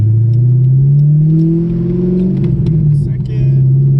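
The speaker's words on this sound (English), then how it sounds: "let's turn onto this road over here and see how well this car accelerates." A 2002 Chevrolet Corvette C5 Z06 accelerating hard from inside the cabin, its engine note climbing loudly and steadily through the revs before a brief dip and renewed pull, close and dominant throughout.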